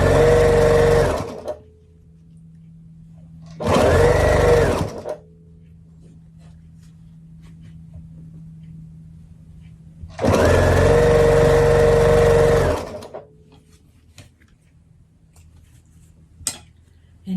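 Sewing machine stitching quilt blocks in three loud motor bursts, the last one longest, with a faint steady hum and occasional soft clicks between runs.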